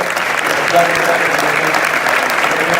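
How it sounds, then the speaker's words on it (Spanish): Steady, dense applause from a large crowd at a Spanish regional sports awards gala honoring a champion, sustained and loud throughout with voices mixed in. "Un aplauso para despedirla para ellos."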